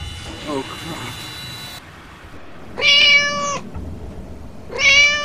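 A pet cat gives two clear, drawn-out meows about two seconds apart. Soft household noise sits between them, with a faint muffled voice early on.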